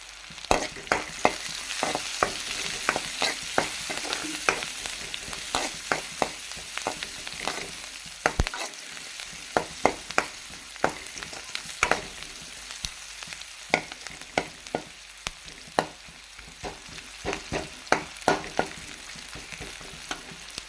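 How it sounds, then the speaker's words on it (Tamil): Sliced onions with a pinch of turmeric fry in a pan for sambar, a steady close sizzle broken by frequent sharp clinks and scrapes of a spoon stirring throughout, with no talking. "வெங்காயம் நல்லா வதங்கிடுச்சு"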